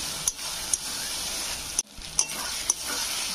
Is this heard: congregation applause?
no